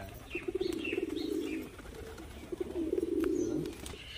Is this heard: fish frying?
no